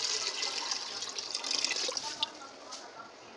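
Water being poured into a pressure cooker holding barley and split chickpea lentils for haleem, a steady hissing splash that runs through the clip and thins toward the end, fairly quiet with a few brief clinks.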